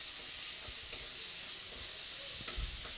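Garlic paste frying in a pan on lowered heat, with onion paste and tempering spices, gives a steady soft sizzle and hiss. A few faint scrapes of stirring come through, with a slightly louder stir near the end.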